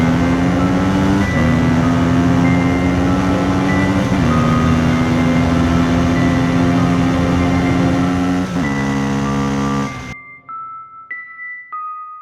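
A cartoon car races flat out in a chase, its engine droning loud and steady with a few pitch shifts before cutting off abruptly, followed by a short run of electronic beeps.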